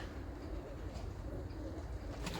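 Soft, low cooing of a crested female pigeon murmurs steadily throughout, fairly faint against a constant background hum.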